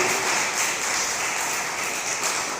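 Continuous applause from a church congregation, an even patter of clapping that holds steady at moderate volume.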